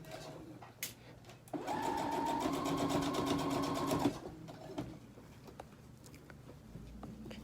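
A sewing machine stitches quickly over sequined fabric in a single steady burst of about two and a half seconds. Quiet handling noises and fabric rustle come before and after.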